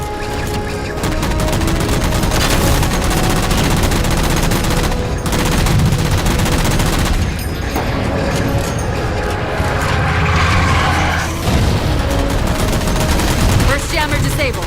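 Dense, continuous automatic gunfire and bursts fill the whole stretch in Halo 4 as jammers are shot down, with booms and game effects layered over a steady loud mix and no pauses.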